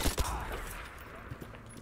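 Gunfire from the Battlefield 5 video game, a few loud bursts of shots packed into the opening moments, then fainter scattered reports over a dull background of game noise.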